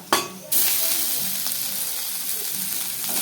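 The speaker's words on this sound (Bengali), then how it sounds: "মশলাটাকে ভালো করে ভেজে নেবো এবার দিয়ে দেবো আদা" Spice paste frying in a pan as ginger is added, with a sharp loud burst of sizzling at the start, then a steady hiss and crackle that holds throughout.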